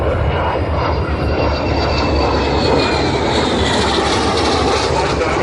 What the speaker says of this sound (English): a 1939 Piper L4 Grasshopper powered by its original 65 horsepower 4-cylinder engine